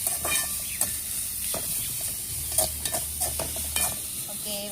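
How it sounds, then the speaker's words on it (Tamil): Onions stir-fry in oil in a pan for an eggplant curry, giving a steady close sizzle with intermittent scraping knocks from the stirring. "வெங்காயம் லைட் ப்ரௌனில் வந்துருச்சு."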